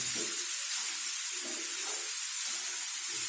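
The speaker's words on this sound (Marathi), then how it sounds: "याला छान तुपावरती गाजर परतून घ्यायचं" Carrots sautéing in ghee for gajar halwa give a steady, close sizzling hiss with soft stirring scrapes underneath, alone without talk.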